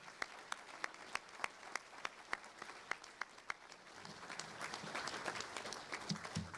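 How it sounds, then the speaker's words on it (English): Audience applause for a state governor at a chamber of commerce luncheon, starting as a moderate room-wide clapping and swelling louder and denser toward the end, with a few individual sharp claps standing out. "Let's give one more round of applause to our governor for being with us today."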